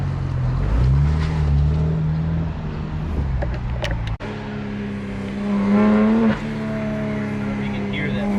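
A BMW G80 M3 with front mount intakes drones and revs from inside the car, engine note rising and shifting through gears with a sharp blip midway, under occasional talk.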